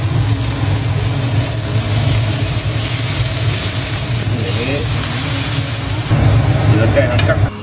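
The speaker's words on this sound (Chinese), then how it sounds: "翻炒" Oil-braised prawns with ginger sizzle and hiss as they are stir-fried in a wok, a loud, continuous frying noise up close, with a voice heard faintly beneath it.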